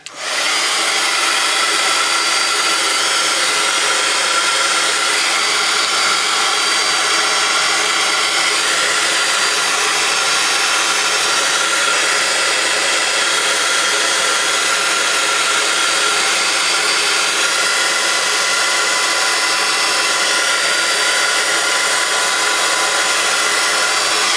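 A hair dryer blows on a watercolour galaxy card background, giving a steady, loud, close whooshing hiss that runs unbroken throughout with no voices.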